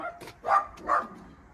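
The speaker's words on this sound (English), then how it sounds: "the dogs." Dogs bark nearby during a look over a used VW Beetle, two distinct barks about half a second apart after a softer yip, moderately loud against quiet background.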